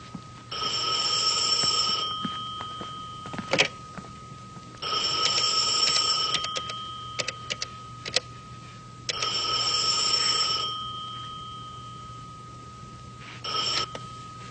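A telephone bell rings in three bursts of a few seconds each, separated by brief pauses, close and clear with a steady electronic tone, in an office scene from a police drama.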